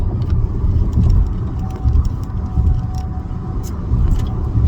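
A car rolling over a potholed road, heard as a steady low rumble with irregular bumps and thuds from the tires, close and continuous throughout.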